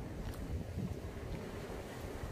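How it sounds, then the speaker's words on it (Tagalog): Cold breeze blowing outdoors near San Carlo Borromeo in Italy, a steady low rush of wind buffeting the microphone with no other sounds. "ang lamig-lamig ng simoy ng hangin"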